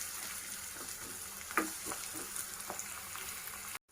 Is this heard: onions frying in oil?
yes